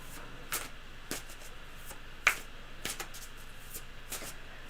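A deck of cards is shuffled at a tabletop game, giving faint, quick riffling bursts and soft snaps at roughly regular intervals over a quiet room.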